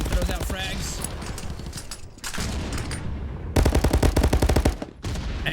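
Rapid bursts of gunfire from the VR shooter game Contractors, loud and close, come in several separate strings of shots with short gaps between them.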